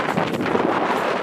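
Strong mountain wind in avalanche terrain roars and buffets the microphone in a dense, continuous rush with no pauses.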